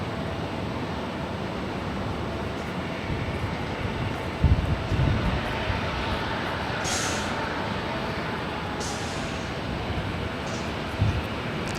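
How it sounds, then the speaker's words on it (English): Southwest Airlines Boeing 737-700 landing at LAX, a broad steady jet roar at a distance, rumbling evenly for several seconds with a few brief higher hisses, faint voices underneath. "That was Southwest Airlines Flight 2087 coming in from Phoenix, Arizona, in that 737-700"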